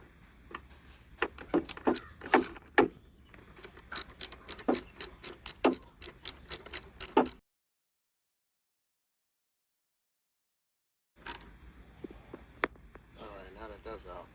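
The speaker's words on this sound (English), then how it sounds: "And now you're gonna need a 7mm socket. Start removing these bolts." A 7mm socket wrench removing bolts from a Chevy HHR windshield wiper transmission assembly: dense ratcheting clicks and metallic ticks for several seconds, a silent gap, then more ratchet clicking.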